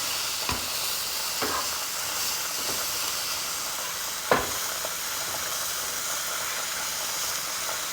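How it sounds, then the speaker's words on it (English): Spaghetti ingredients seasoned with salt and Italian seasoning are mixed together in a hot pan, giving a steady close sizzling hiss broken by a few sharp scrapes and clicks of the utensil, with no talking. "Now I'm mixing everything together. Mixing all that good stuff."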